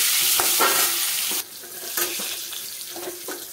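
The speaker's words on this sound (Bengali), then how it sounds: "এখন আমি পটলটাকে ভেজে নেব।" Stuffed pointed gourd (potol), filled with turmeric and salt, fries in oil in a pan: a bright, hissing sizzle with scattered crackles and a few sharp knocks, dipping briefly midway.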